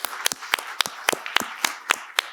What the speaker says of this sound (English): ask you to give yourselves a round of applause